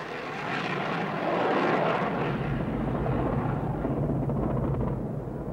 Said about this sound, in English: The Tornadoes continued to fly to attack a wide variety of targets.